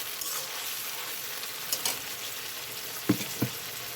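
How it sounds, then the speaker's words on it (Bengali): Onions and spices, with ginger, garlic and salt, frying in a pan for a tengra fish dish: a steady, close hiss of sizzling broken by a few soft stirring knocks near the end. "তো এখানে আমার পেঁয়াজটা ভাজা হয়ে গেছে।"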